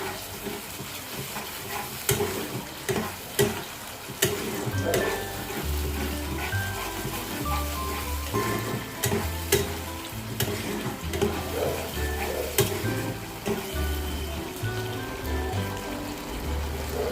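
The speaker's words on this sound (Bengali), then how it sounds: "দিয়ে আমি এটা সুন্দর করে নাড়তে থাকবো" Katla fish curry masala with yogurt fries and is stirred in a pan, giving a continuous sizzle with scraping spoon strokes under background music.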